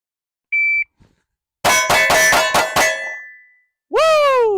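An electronic shot-timer beep, then a quick string of five Taurus GX2 pistol shots with ringing metallic clangs trailing off, followed by a final bright tone.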